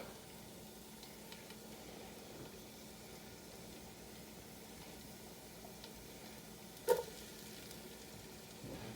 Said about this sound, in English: I'm going to add my onion